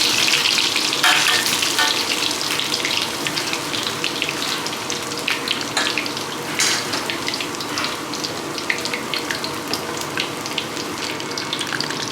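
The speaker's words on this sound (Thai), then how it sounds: "เราจะใช้ไฟกลางในการทอดนะครับ" Steady, dense sizzling and crackling of catfish frying in hot oil in a pan over medium heat continues throughout, with scattered pops and spatters and no talking.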